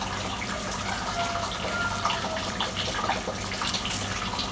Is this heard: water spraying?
yes